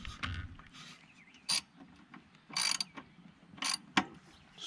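The wheel drive pulley on a Husqvarna LC22 all-wheel-drive lawn mower is turned by hand during a belt repair, producing several separate ratcheting, clicking mechanical bursts with quiet gaps between them, up close.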